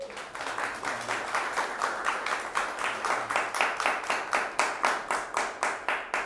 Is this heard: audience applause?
yes